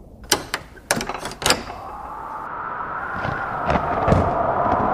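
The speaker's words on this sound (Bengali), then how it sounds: "এক টানে সে দরজার খিলটা খুলে দিল" Several sharp wooden knocks and rattling clunks of a wooden door bolt being pulled open, followed by a rising whoosh of stormy wind.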